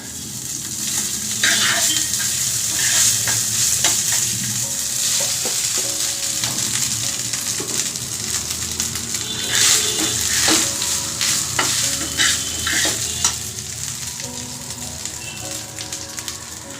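Jeera rice being stir-fried in a pan with cumin seeds and dried chilli: a steady, loud sizzle runs throughout, with scraping stirs of the rice breaking through the crackle, and no voices.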